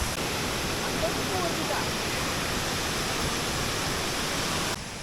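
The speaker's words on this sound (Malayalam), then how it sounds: "ഇത് ഇത്രയും കൂടി വലിപ്പുള്ള വെള്ളച്ചാട്ടമാണ് കേട്ടോ" Vattayi waterfall, an artificial fall formed by quarrying, gives off a steady, even rush of falling water that stays constant throughout.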